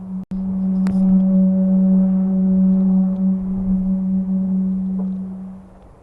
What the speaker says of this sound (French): Ça, c'est le bruit des foils du bateau.